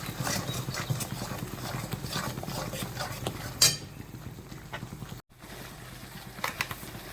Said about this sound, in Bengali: একটু দেবো কাশ্মীরি লঙ্কার গুঁড়ো, এই আধা চামচের মতো, টিস্পুনের দিয়ে এটাকে ভালো করে মিশিয়ে দেবো